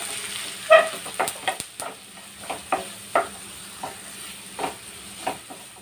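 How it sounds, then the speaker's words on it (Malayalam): Chopped onion, garlic and ginger sauté in a pan for a green peas kurma, a soft continuous sizzle broken by repeated close scrapes of a stirring spatula. "എല്ലാം കൂടി നമുക്ക് നന്നായിട്ട് വഴറ്റിയെടുക്കാം"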